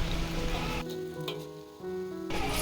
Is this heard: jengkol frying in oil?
yes